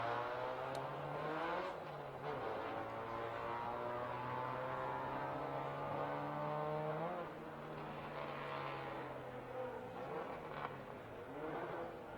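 Race cars lapping Circuit of the Americas during a super lap battle, engines droning steadily with rising and falling pitch as cars come around, sustained and moderately loud throughout with no talking.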